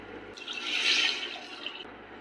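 Chicken stock, boiled with salt and turmeric, pours into a pan in a short, steady splash for about a second and a half, close and moderately loud, then stops.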